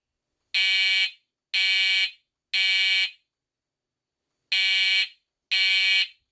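An Edwards Fireshield Plus fire alarm panel sounds its signal in drill mode. Five loud, piercing electronic tones come in even bursts of about half a second each, with a longer gap after the third burst. The room is otherwise silent.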